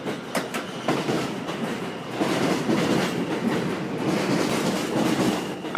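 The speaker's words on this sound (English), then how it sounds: "I take the hour-long train ride back to Union Square" An hour-long subway train ride back to Union Square from Brighton Beach: a loud, steady rumble with clickety-clack wheel beats and a few sharp clicks, heard from inside the car without any talk.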